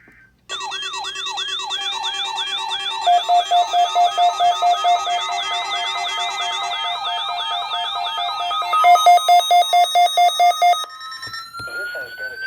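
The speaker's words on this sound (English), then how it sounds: "This has been a test of the NOAA All Hazards Weather Radio Alarm System." A NOAA Weather Radio alert alarm sounds loud and electronic, with rapidly warbling siren-like tones and a steady beeping tone running together for about ten seconds before cutting off.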